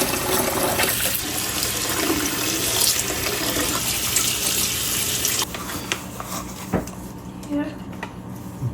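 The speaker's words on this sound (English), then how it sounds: "we have to rinse off the salt and everything, wash the cabbage" A faucet runs hard over salted cabbage being rinsed in a sink for kimchi. The water sounds close and splashy, then drops to quieter trickles and handling noises, with some talking in the background.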